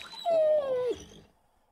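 A dog in the survival video game 7 Days to Die lets out a single drawn-out whine or yelp, close and clear, tapering off into quiet.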